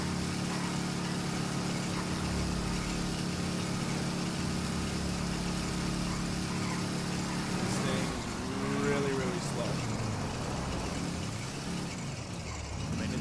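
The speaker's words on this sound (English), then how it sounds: "Doesn't help that the wheels are shot out and we're just basically rim bashing" A lowrider car in GTA V grinds along on bare rims after its tires are shot out, a steady mid-pitched engine hum with scraping and rumble, a brief tonal sweep near the end.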